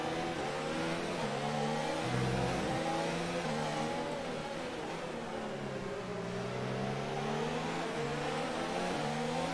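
F1 car from F1 2019 at the Brazilian Grand Prix, its engine revving hard under heavy throttle, with rising and falling harmonic pitch sweeps as it accelerates and shifts, loud and continuous throughout with no talk.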